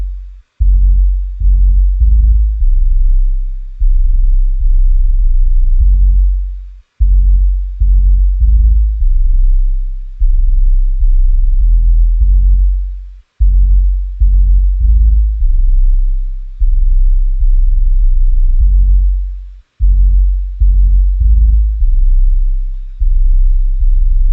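Deep, booming 808 bass notes pulse in a steady rhythmic pattern, loud and sustained, with short gaps between phrases and nothing else playing, in a Lucki-style hip-hop beat.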